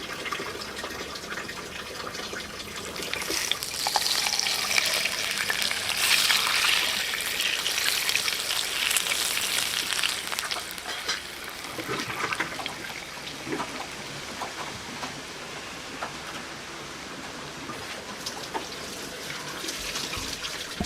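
Hot cooking oil poured from a wok over a pork leg, giving a loud, hissing, crackling sizzle that rises early then keeps spitting and bubbling steadily with no talk.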